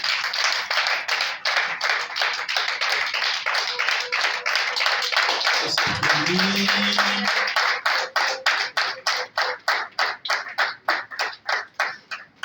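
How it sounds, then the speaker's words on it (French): Audience applause at a mayoral distinction ceremony in Avrankou, steady dense clapping that thins toward the end into a few scattered, separate claps. "Et on applaudit."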